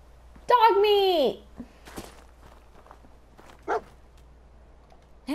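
A dog in the video game Fallout 4 gives a single loud drawn-out whining bark up front, followed by quieter scattered footsteps and small sounds, with a brief vocal burst later.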